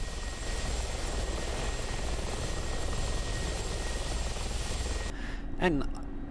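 A Mi-24P Hind attack helicopter engine in the DCS flight simulator produces a loud, continuous rotor and turbine drone that cuts off abruptly near the end, with someone talking over it.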